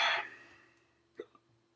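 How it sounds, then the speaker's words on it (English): A single short hiccup, then a faint second catch of breath, close by and quiet, after eating a white habanero pepper. A breathy exhale fades out before it. "Probably gonna get the hiccups"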